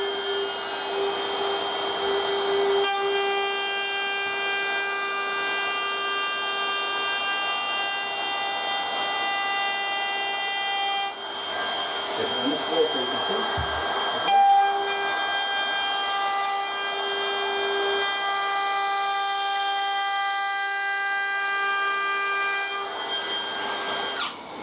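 A Dewalt DCW604 18V cordless router cuts into wood with dust extraction running, giving a loud, steady high-pitched whine that holds through the whole stretch, with a short scraping, shifting passage near the middle.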